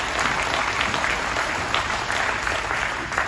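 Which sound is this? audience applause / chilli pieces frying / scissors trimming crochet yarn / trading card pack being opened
audience applause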